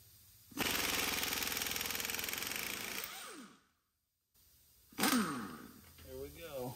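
An Earthquake impact wrench hammers at a 24 mm torque-to-yield crank pulley bolt during an LSA belt drive install, giving a loud sustained rattling burst of about three seconds, a pause, then a second short burst with brief talk afterward.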